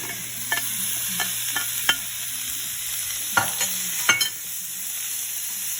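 Ground beef sizzles in a pan of vegetables while a utensil stirs and scrapes, several sharp scraping knocks standing out over a low steady frying hiss, close and clear with no talking.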